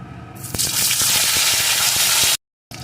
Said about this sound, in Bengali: গোটা জিরে ফোড়নগুলোকে একটু লাল লাল করে ভেজে নিয়ে এর ভিতরে দিয়ে দেবো আমি একটা টমেটো কুচি